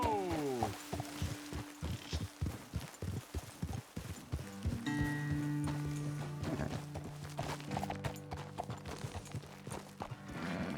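Hooves clop steadily as horses walk in the video game Red Dead Redemption 2, with a whinny and lingering tonal ringing over a dense ambient background.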